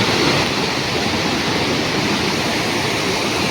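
Fast floodwater in a river roars as a dense, steady rushing wash, loud and close, with no voices over it.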